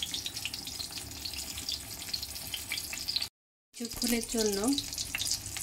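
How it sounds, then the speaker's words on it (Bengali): Eggplant slices frying lightly in oil in a wok give a steady, close sizzle with soft stirring, and a voice speaks briefly near the end. "এইভাবে বেগুনগুলোকে ভেজে নিতে হবে। বেগুনগুলো বেশি ভাজা যাবে না, মোটামুটি হালকা করে ভেজে নিতে হবে।"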